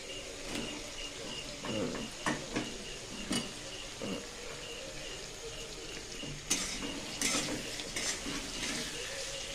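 Fried potato pieces are tipped into a pot of spiced curry and stirred, with a soft sizzle underneath and repeated metal scrapes and clinks of a spoon against the pan, some sharper knocks standing out.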